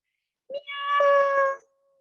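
A person imitates a cat's meow during a children's yoga class, a single drawn-out, nasal, rising-then-falling cry lasting about a second, close and clear with no other sound around it.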